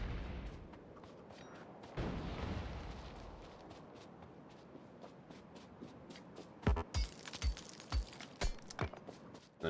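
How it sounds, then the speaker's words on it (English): Grenades going off along pipes in the Factorio game, a string of muffled booms with crackling debris, followed by a quick burst of sharper impact thumps, fairly faint overall with no talking. "I'm just gonna grenade down the pipes"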